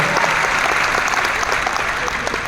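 A crowd claps loudly and steadily at a network-marketing company gathering after a speaker introduces a guest, the dense applause filling the space without a break.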